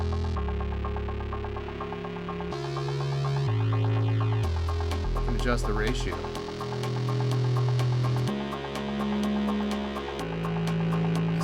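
A Madrona Labs Aalto software synthesizer playing a sustained FM tone, bright and buzzing, with its timbre and pitch shifting in steps as modulation changes; someone briefly speaks over it.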